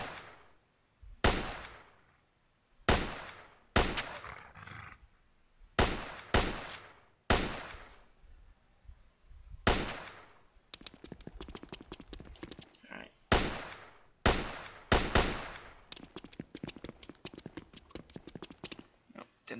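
Gunfire from the video game sZone Online while shooting at spiders: sharp single shots with short decaying tails at irregular intervals, then rapid bursts of fast automatic fire, loud and close.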